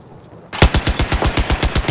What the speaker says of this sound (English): I have eyes on a machine gunner west of your position.